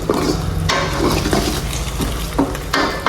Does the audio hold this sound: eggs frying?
yes